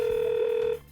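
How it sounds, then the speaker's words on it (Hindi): A telephone tone for a call being placed, a steady sustained beep held for most of a second before cutting off, clear and fairly loud with no talk. "तो प्लीज़ जी डायरेक्टर साहब जरा पॉपी को तो फोन लगाइए."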